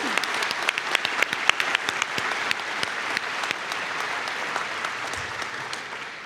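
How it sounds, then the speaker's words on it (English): Graduation ceremony audience applauding visiting business students from Japan, a sustained dense round of clapping from a large crowd in a hall, steady throughout. "Could we give them a special round of applause?"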